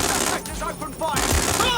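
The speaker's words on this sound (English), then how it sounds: "I'm taking fire!" Gunfire during a firefight in Watch Dogs Legion, a loud continuous burst of shots mixed with game noise and brief voice-like sounds over under two seconds.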